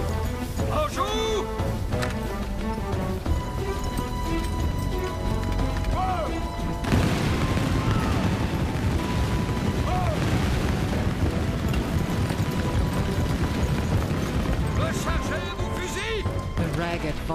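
A ragged musket volley from French line infantry at the Battle of the Plains of Abraham in the Seven Years' War: a heavy broadband crash of fire that rolls on amid battle noise and music, with a voice talking over it.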